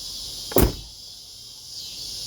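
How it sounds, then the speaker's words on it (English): A car door on a 2008 Chevy Cobalt shuts once with a single solid thump, followed by a steady background hiss of insects or crickets. "Shut the door like you're supposed to shut it."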